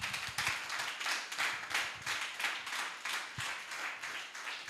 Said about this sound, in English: Please, a round of applause again for him.